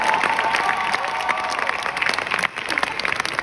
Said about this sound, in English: I do believe that one more applause for Mr. T is in order.